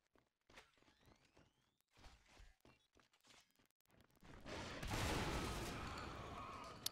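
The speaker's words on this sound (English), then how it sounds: "these shotguns really are absolutely destroying RADicaL at this point" Shotgun fire in Natural Selection 2, a few scattered sharp shots and thumps at first, then a sustained loud barrage of gunfire and impacts filling the second half.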